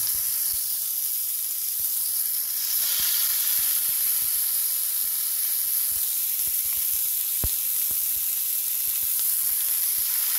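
Marinated shawarma meat fries in sunflower-blend oil, producing a bright, continuous hiss with scattered pops and crackles throughout, heard close and alone.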